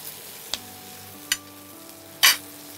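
Onion with a little salt and garlic cooks in a pan under a faint steady sizzle, broken by three sharp stirring clacks of a spatula, each louder than the last.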